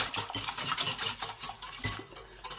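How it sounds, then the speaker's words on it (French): A utensil stirs garlic powder, spices and pepper into a savoury cake batter in a bowl, giving quick, close, repeated scraping and clinking strokes. "Je mélange"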